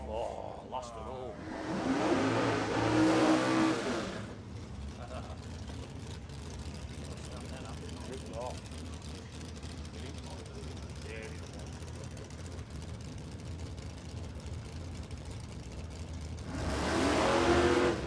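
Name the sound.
drag racing car accelerating down the strip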